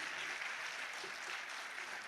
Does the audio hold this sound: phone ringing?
no